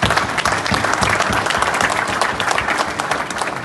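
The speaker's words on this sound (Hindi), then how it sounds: "ताली बजा दो भाई को।" Audience clapping for boxer Neeraj Goyat at a gathering of Indians in Canada, a loud, dense burst of many hands sustained evenly throughout.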